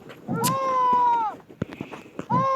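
A robot cat in the video game Tasty Planet Forever gives two electronic meows, a long sustained one and a shorter one at the end, with a few clicks and thumps between.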